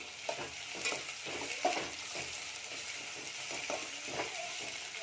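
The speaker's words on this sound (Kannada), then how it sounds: "ಇವಾಗ ಕರಿಬೇವು ಹಾಕ್ಕೊಳ್ಬೇಕು." Curry leaves sizzle in hot oil in a pan, with a steady crackle and rhythmic stirring scrapes heard up close.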